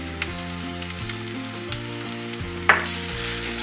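Potatoes and salt being stirred in a hot frying pan, oil sizzling steadily under soft scraping strokes of the spoon, with one sharper clack of the utensil against the pan near the end.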